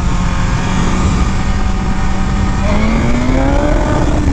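A sport motorcycle engine revs hard in race mode during a wheelie attempt, a loud continuous roar that rises in pitch as it accelerates toward the rev limiter, with no talking.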